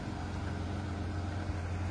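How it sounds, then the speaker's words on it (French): A Porsche GT3 pulling away from a dealership showroom, heard as a steady low engine rumble that holds evenly throughout without rising or fading, no voices. "Voilà notre GT3 qui quitte nos locaux"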